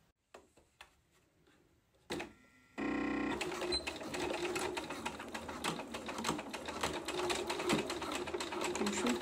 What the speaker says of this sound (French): Et je vais pouvoir commencer ma couture.